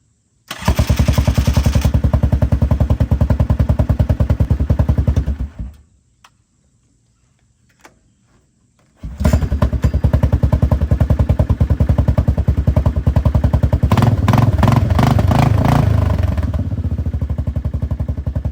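A 1998-2001 Yamaha Grizzly 600 4x4 ATV engine runs with a steady, loud, fast-ticking idle, cuts out for a few seconds, then fires back up and settles into the same even clattering idle.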